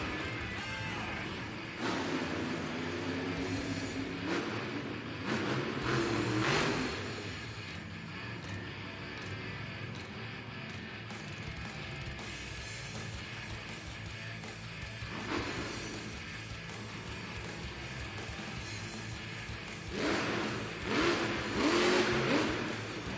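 The Monster Jam truck Dragon roars around an arena, its engine revving in repeated loud surges between quieter stretches, with a constant crowd and arena din underneath.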